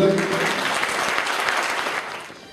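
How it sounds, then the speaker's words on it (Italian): Applause from a poetry gala audience greeting an award winner from Terracina, steady clapping that starts over a brief voice and fades out toward the end. "prego signore, intanto un applauso"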